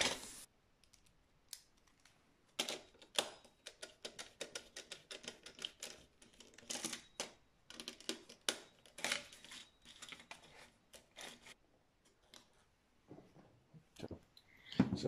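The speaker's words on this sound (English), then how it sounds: "to wire this up, you remove this plastic cover to get to the screws" A plastic cover being pried and clicked off a wireless heating thermostat, a long run of close, irregular snaps, clicks and scraping handling noises with brief pauses and no talking.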